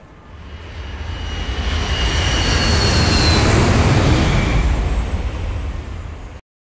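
An airplane at a video game airport gives a loud, broad jet roar that swells over several seconds, holds, then cuts off abruptly.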